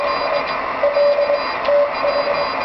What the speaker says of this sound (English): I can send Morse with my keyboard here, just typing along